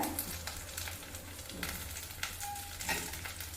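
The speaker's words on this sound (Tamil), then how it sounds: "வெண்டைக்காய் நல்லா வதங்கட்டும்" Okra and onions fry in a pan, a steady quiet sizzle with faint crackles and a few light clatters, alone without talk.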